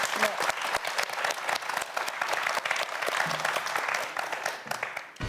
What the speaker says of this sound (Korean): 다시 한번 여러분 축하의 큰 박수 보내주실까요?